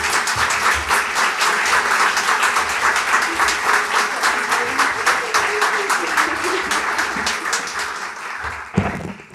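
Sustained applause from an audience at a literary prize longlist announcement, dense steady clapping throughout that thins out near the end.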